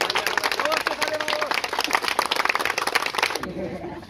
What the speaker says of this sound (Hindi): और एक बार ताली बजाएं।